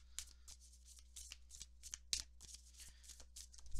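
Tarot cards being shuffled and drawn close up, a steady series of soft riffling flicks and slaps repeating quickly and quietly over a low background hum.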